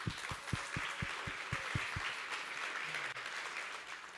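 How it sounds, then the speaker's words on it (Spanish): Audience applause at a Construverde 2023 event, a burst of clapping from a crowd that fills the room for a few seconds and then thins out. "aplauso para ella"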